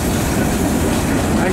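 A train rolls past close by in a steady, dense rumble with a faint rhythmic clatter of wheels, continuous throughout.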